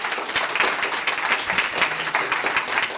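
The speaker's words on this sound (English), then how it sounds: "So round of applause for him." Steady audience applause for poet Stephen Sexton at a creative writing event, a dense wash of many hands clapping at close range and even loudness throughout, with no talking over it.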